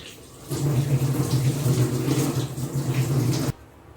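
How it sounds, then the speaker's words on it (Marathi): Tap water runs steadily into bowls being washed at a sink, a loud continuous splashing gush that starts abruptly and stops just as suddenly near the end. "हे बघा हे बॉईल्स धुवून घ्यायचे, घाण लागलेली असते ते."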